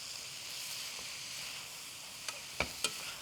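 Bell peppers sizzle as they are stir-fried with chicken in a pan, a steady bright hiss close by, broken near the end by a few sharp clinks of the utensil.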